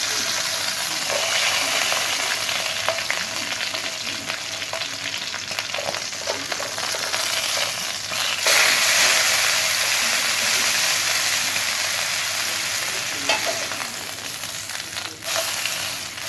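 Australian beef striploin steak sears in a frying pan with its fat rendering, a loud continuous sizzle and hiss with occasional spitting pops, close up and steady throughout.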